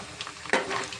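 Prawns fry in a hot pan with a bright, close sizzle, and a sharp burst of stirring and spattering sounds comes midway.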